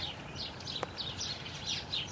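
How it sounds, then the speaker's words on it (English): Birds chirp around a field of conventionally managed soil bordered by perennial plantings, a steady scatter of faint, high calls repeating throughout under a low wind-like background. "This field, as you can hear for the birds that are all around us"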